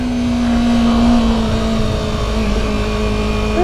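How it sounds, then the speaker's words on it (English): A 2015 Yamaha R3 motorcycle engine revs up close by, its steady buzzing drone holding for several seconds and climbing slightly toward the end. "It definitely revs up, which would be expected for something like this."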